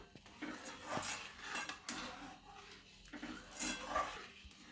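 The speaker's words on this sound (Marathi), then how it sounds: "ही वेलची पूड आपण सगळीकडे हलवून घेऊया." A spoon scraping and clinking around a pan as cardamom powder is stirred into coconut barfi syrup, with quiet, irregular metallic taps and scrapes at close range.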